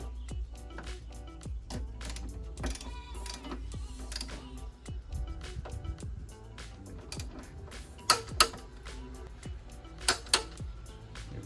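A ratchet tightens a strut brace bolt on a 2024 Mini Cooper JCW, producing rapid, continuous close-up clicking with a few louder metallic ticks late on.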